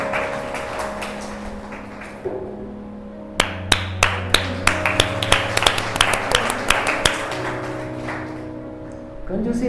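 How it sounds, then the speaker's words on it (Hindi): An audience claps for a sister at a Hindi church gathering, a run of sharp, fairly loud, evenly spaced claps building briefly in the middle before fading back toward quiet room sound. "जोर से ताली बजाए सिस्टर के लिए"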